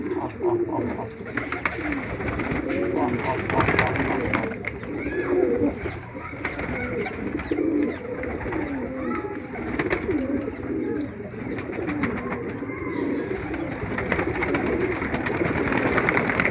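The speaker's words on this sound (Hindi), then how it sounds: "ख़तंग कबूतर जो कि बहुत कम देखने को मिलते हैं, ख़तंग कबूतर" Many Khatang pigeons coo continuously in overlapping, throaty rolls, dense and steady throughout, with faint background noise and no talking.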